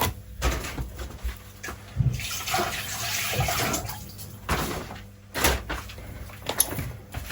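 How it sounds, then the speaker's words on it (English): Vegetables for an assorted Nigerian soup being washed in water and dropped into a pot, with intermittent splashing, clattering and thumps of handling at close range, no speech. "Just give it a wash, add it in your pot."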